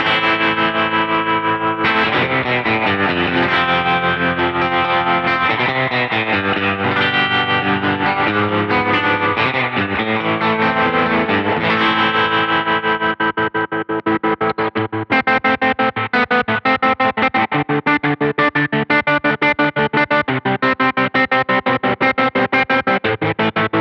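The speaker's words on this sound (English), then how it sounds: "it creates those great surf tones as well as these really robotic, choppy volume tones" An electric guitar played through a Wampler Terraform tremolo pedal gives choppy, pulsing surf tones, the volume chopping in fast rhythmic stutters under a wet, effected sound, loud and continuous with no talk.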